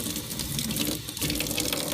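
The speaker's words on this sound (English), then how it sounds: "You want to make sure that you rinse it all out" A paintbrush loaded with glue being swirled and rinsed in water gives a steady running, splashing wash of water, close and continuous for the whole moment with no voices.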